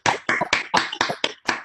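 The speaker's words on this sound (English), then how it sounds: "With that, give him a big applause." A few people clap at an online IEEE section executive committee meeting, sparse uneven bursts of hand claps, close and fairly loud, about seven distinct claps in quick succession.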